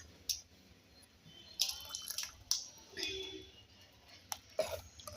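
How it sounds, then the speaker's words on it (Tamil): Water simmers quietly in a pot while making rice and sago vadam, with sparse, soft bubbling pops and ticks against a hushed background. "இப்போ இந்த தண்ணி நல்லா கொதித்து வட்டுறேங்க"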